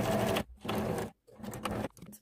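A sewing machine stitches a fabric pouch in two sustained bursts of loud, close whirring with a short pause between them and a brief tail at the end.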